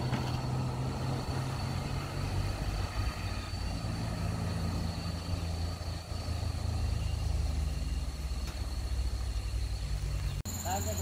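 A tanker truck loaded with crude palm oil accelerates uphill, its engine a heavy, continuous low drone with steady rumble close by, ending with a sharp knock.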